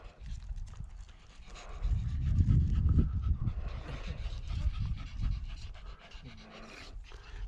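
Several dogs pant steadily and loudly at close range, a rhythmic breathy huffing that swells in the middle and eases toward the end, heard outdoors at an old stage stop with no speech over it.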